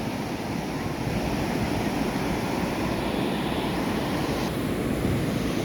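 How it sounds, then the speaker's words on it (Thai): Heavy surf roars continuously with strong wind buffeting the microphone, a steady loud wash of breaking sea waves in rain at Chanthaburi, Thailand, and no voices. "คลื่นแรงมากฝนตกนะครับ"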